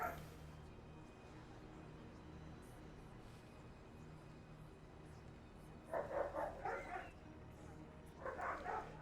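A dog barks in short bursts in the background of a house during a Dragon Age: The Veilguard game session, with two separate clusters of yips and woofs against steady low room noise.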